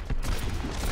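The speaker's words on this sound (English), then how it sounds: "Shotgun to the face!" A shotgun blast from the Reaper character in the Overwatch shooter game, a loud, close burst of gunfire that fills the short moment with dense, rumbling noise.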